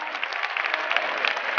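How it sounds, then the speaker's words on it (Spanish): Audience applauding at a drag queen gala during Maspalomas Carnival 2013, a brief, steady burst of dense crowd clapping, bright and continuous. "Venga, que se oiga ese aplauso otra vez."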